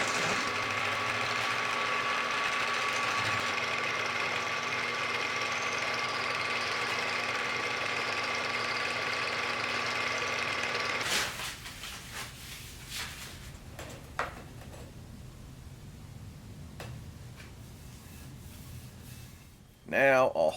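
A milling machine runs a fly cutter across a steel work table, giving a steady whirring drone with a tonal hum for about eleven seconds before it winds down, followed by quieter clanks and shop handling noises.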